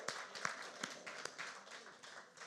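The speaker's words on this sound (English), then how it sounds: "one more round of applause for Jimmy John Misty" A live show audience claps for a performer, a faint, scattered round of applause with a few sharper individual claps and some voices mixed in.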